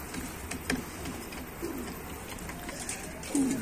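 Tumbler pigeons coo softly in a coop on a day of strong southwest wind, with a few low coos over steady windy background noise.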